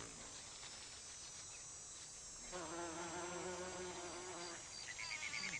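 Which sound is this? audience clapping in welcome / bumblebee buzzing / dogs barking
bumblebee buzzing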